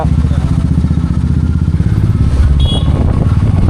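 A Royal Enfield Meteor 350 motorcycle fitted with an aftermarket exhaust runs with a steady, smooth, low engine rumble, loud and close, while a voice talks over it.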